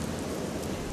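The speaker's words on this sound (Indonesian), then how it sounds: "Hujan deras turun selama 40 hari 40 malam." Heavy rain pours down in a dense, steady hiss with no breaks, loud and even throughout the brief moment.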